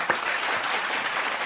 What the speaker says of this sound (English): let's give him again a virtual applause